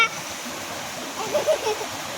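Water flows steadily in a small stream in a valley, a continuous soft rushing wash with faint splashes, heard at moderate distance and without talk.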